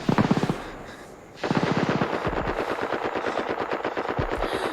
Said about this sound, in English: They're trying to take out a machine gun?